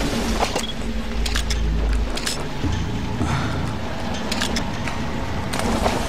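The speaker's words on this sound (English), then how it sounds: "Shit, I hear a truck." A truck in Metal Gear Solid: Ground Zeroes approaches with a deep, steady engine rumble that swells and shifts over several seconds, accompanied by scattered mechanical clanks.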